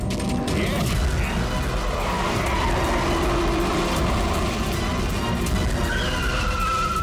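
A car driven hard during a chase, giving a loud, continuous roar of engine and road noise with a thin high squeal rising near the end, heard close and without talking.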